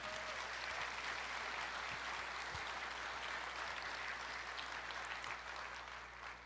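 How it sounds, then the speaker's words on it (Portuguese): A church congregation applauding together, sustained even clapping from a sizable crowd heard at moderate distance, with a low steady hum beneath and no talking. "Quantos podem aplaudir o Senhor?"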